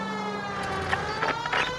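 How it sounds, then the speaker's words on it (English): A police car siren in the video game L.A. Noire, a steady wailing tone with faint engine hum beneath it, short and moderately loud. "We have a siren."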